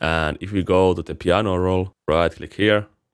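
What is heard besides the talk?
No distinct noise like a dog, phone or traffic.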